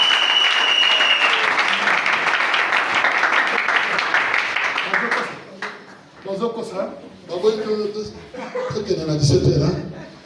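A church congregation at a Sunday service claps in dense, sustained applause for about five seconds, then the clapping thins out and gives way to voices and talk.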